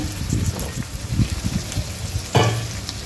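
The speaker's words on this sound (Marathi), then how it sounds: "बटाटे टाकून द्यायचे आहे." Chopped potatoes go into a hot pan for a drumstick and potato curry, with a loud sizzle and frying crackle, a burst of stirring or scraping near the end, and no talk.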